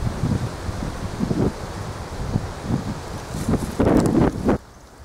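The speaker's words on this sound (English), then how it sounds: "There's a lot of wind today, isn't there?" Gusty outdoor wind buffeting an unshielded microphone, with low rumbling thumps and rustling that swell and ease irregularly before cutting off near the end.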